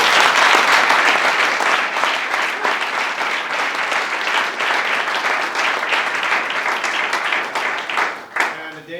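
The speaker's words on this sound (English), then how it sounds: "I would like to give a great big round of applause to all the competitors and pipers" An awards ceremony audience at a pipe band and snare drumming event gives sustained, loud applause for the competitors and pipers, the clapping dense and steady before tapering near the end.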